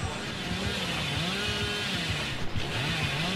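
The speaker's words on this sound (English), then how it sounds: "I hear Bob or Billy. Chainsaws!" The killer's chainsaw in the horror video game Dead by Daylight revs with a continuous rough buzzing drone that rises and falls, loud and close amid other game noise.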